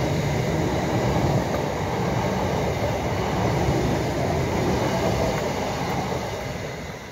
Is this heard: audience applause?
no